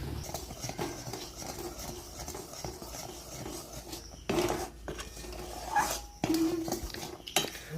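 A spoon clinks and scrapes in a pot as sugar and jaggery syrup for puffed rice balls is stirred, with soft bubbling underneath and a few sharper knocks near the end.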